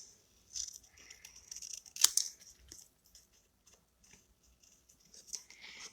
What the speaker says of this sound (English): Let's go ahead and just fussy cut him out